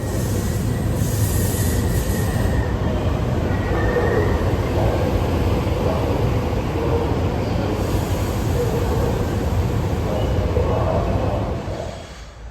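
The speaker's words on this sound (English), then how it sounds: "We'll now get on another SEPTA Regional Rail train, this time over the tracks of the former Reading Company." A loud, continuous rumble of a SEPTA Regional Rail commuter train rolling over tracks, with a faint wheel squeal near the start. The sound fades slightly at the very end.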